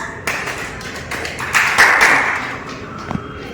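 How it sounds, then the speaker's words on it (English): A small class audience claps in congratulation at a summer school session, with scattered hand claps that swell in the middle and thin out toward the end. "Congratulations. Claps."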